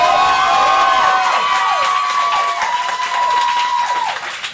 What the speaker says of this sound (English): And even bigger round of applause for our roast master, Mr. Anthony Tamaccio